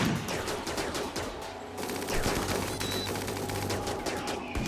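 Colonists fire guns in a RimWorld fight, rapid overlapping bursts of gunfire crackling continuously and loudly throughout.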